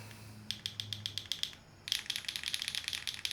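Keys on a rebuilt mechanical keyboard with a new plate clack in quick rhythmic bursts, a short run of strokes, a brief pause, then a denser flurry of typing, close and crisp with no talk.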